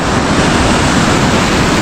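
Sea waves wash onto the shore in a loud, steady roar with wind buffeting the microphone, continuous and close.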